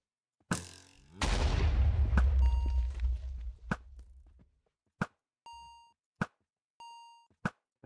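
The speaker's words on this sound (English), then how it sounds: "I'm shooting Mari" Video-game gunfire rings out during a player-versus-player fight in a Minecraft-style survival match: a sharp blast, a loud sustained burst, then several short, evenly spaced pops and beeps, with no talk over them.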